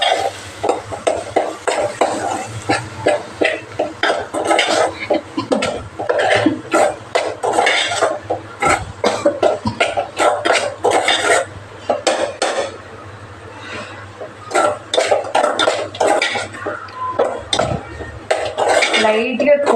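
Egg curry being stirred in a pan, a spoon scraping and clinking against the metal in repeated strokes, with light sizzling, a few pauses and a brief cough in the background.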